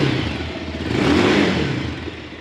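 A new Bajaj Pulsar 220F BS motorcycle engine revs up close and loud, a rough continuous roar that swells to a peak midway and then eases slightly.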